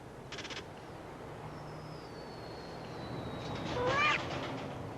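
Cats meowing in a Whiskas cat food advert, one drawn-out meow and then a louder rising meow near the end, over faint background noise.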